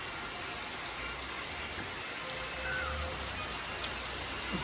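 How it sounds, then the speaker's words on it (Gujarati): Heavy monsoon rain pours steadily in Mehsana, a dense, continuous hiss of drops striking surfaces close by, even and unbroken throughout with no voices. "મેહોણામાં જોરદાર વરસાદ આવી ગયો"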